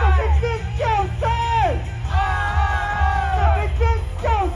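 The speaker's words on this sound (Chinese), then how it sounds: "这是尖叫声" Children in a theatre audience at a temple performance screaming and yelling together, loud overlapping high-pitched shrieks in repeated bursts over a crowd din.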